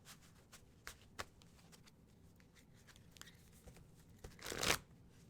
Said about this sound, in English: That was a messy shuffle